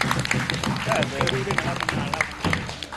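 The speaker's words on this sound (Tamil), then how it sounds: "அதற்கே ஒரு அற்புதமான கைத்தட்டல் கொடுக்கலாம்." Audience applause at a live Tamil stage show, moderately close clapping with bursts rising and falling, mixed with talk and crowd noise throughout.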